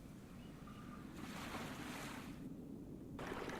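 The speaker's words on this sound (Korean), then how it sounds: "바다 파도 소리도 있고요." Ocean waves wash and surge in broad swells, rising and falling in a continuous roar of surf with no talking, from the Noizio ambient sound app.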